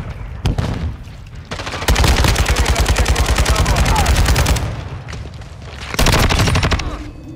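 Automatic rifle fire in Call of Duty: Modern Warfare II, with sharp single shots followed by a long rapid burst and another burst near the end, loud and close.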